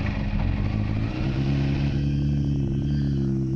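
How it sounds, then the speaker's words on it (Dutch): An older motorcycle engine starts on the choke and settles into a loud, steady, low rumbling idle close by, with no talking. "Deze motor is wat ouder en die moet ik ook starten met de choke."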